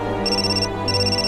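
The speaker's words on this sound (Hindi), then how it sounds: "दोबारा धीमी सी फोन बजने की आवाज आने लगी जो कहीं पास ही थी" A mobile phone ringtone rings nearby in two short electronic bursts separated by a brief gap, over a steady low hum with no one talking.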